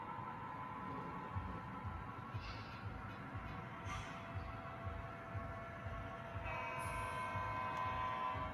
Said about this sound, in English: Here comes the Rockland train.